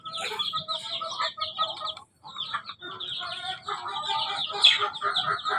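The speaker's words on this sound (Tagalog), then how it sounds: "Inaaway talaga ni Mommy yung lumalapit sa sisiw niya" A mother hen clucks among her chicks in a steady run of close, busy clucks mixed with high, thin chick peeps, continuing with only a brief pause.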